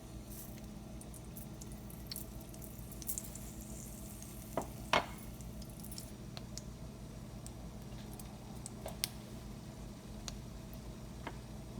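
Mustard seeds crackle in hot oil in a pan while tempering kordi dal, a faint steady sizzle with scattered small pops and a couple of sharper spits, continuous throughout.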